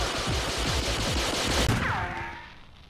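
Rapid gunfire rattles in a dense, loud burst in an animated pirate action show, ending in a swooping tonal whine as the noise fades out.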